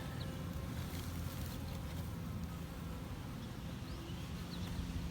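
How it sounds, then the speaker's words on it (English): Bees swarm over damp mud near beehive nucs, a dense steady buzzing that fills the air continuously and stays close, with no voices. "See, the ground is kind of covered with bees"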